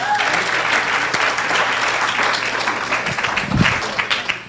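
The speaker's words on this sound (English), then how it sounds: "Give Viki one more round of applause." Audience at a book awards ceremony giving a full round of applause, a dense wash of clapping that holds steady with some crowd noise mixed in.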